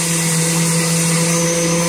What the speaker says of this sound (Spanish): Ahora agregaremos todos los ingredientes en la licuadora, incluyendo esto, y mezclaremos muy bien.